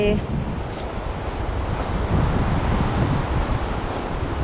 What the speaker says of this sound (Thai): เสียงลมทะเล